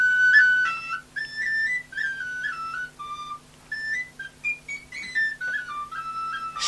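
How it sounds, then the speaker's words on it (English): A small penny whistle plays a lively melody of short, clear notes and quick runs, close and solo against a quiet background hum. "he did a YouTube tutorial of him playing on his little penny whistle"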